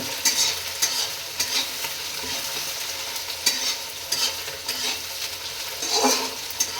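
Chili, garlic, ginger and onion paste being stirred in a hot pan, a close sizzle with repeated rhythmic scraping and clattering strokes of the spoon, no one speaking.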